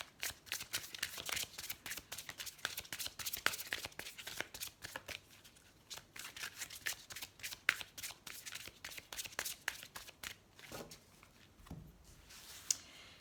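Tarot cards are shuffled by hand in close, quick riffling bursts and soft slaps, repeated rhythmically with short pauses and a few louder taps toward the end.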